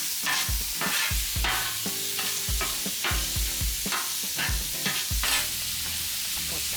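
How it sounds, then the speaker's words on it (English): Onions caramelize on a Blackstone griddle set to low, a steady sizzle broken by repeated scraping strokes of a spatula across the flat-top, close and fairly loud. "Look at it just caramelizing on the Blackstone."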